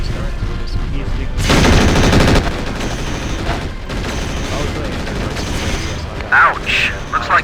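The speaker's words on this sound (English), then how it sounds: "Looks like pulse lasers." Rapid bursts of pulse laser fire in MechWarrior IV Vengeance, a dense, loud stream of repeated shots that swells for about a second, then continues in scattered volleys amid other battle noise.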